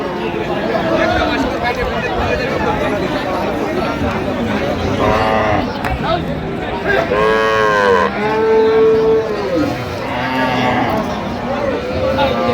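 Cows and calves low repeatedly at a busy village cattle market, the moos rising over a crowd's chatter and nearby people talking.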